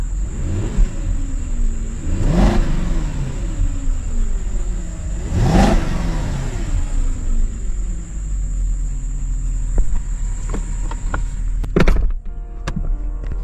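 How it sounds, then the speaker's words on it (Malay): An Audi A8 D4 Quattro V8 engine revs twice, each rise and fall clear over a steady idle rumble, with a sharp click near the end. "Bunyi dia memang bunyi deruman V8 yang amatlah smooth"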